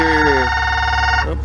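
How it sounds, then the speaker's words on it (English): A telephone rings with a steady, insistent electronic tone over a car's running idle, close and loud, while a voice briefly speaks; the ring cuts off near the end, inside a 2017 Maserati Ghibli SQ4 with Italian leather interior. "sorry about the phone."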